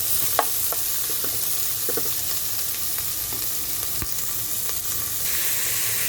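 Ingredients sizzle steadily as they caramelize in a hot pan for a Filipino rainy-night soup, with a few sharp clicks from stirring rising above the continuous frying hiss.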